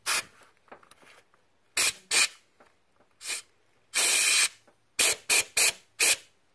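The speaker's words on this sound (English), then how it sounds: "put the air nozzle over that hole" Compressed air nozzle blasting into the oil hole of a Toyota VVT-i cam gear: a string of sharp broadband hissing bursts, several short and one longer, close and fairly loud, with quiet gaps between and no talking.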